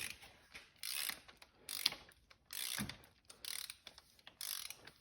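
Sharp ratcheting clicks from a torque wrench being tightened, coming in quick bursts of several clicks each, close and crisp with short pauses between strokes.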